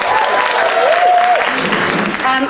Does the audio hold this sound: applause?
yes